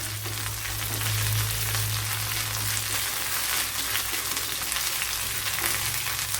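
Frying in sesame oil for a gooseberry pickle makes a loud, continuous hiss and sizzle close up, steady from start to finish, with a faint low hum underneath.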